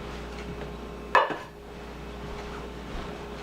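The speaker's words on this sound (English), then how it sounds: "And then you stick it in the oven." A pan of protein bread dough is set into an oven, a single sharp metallic clank partway through, near and clear against quiet room noise.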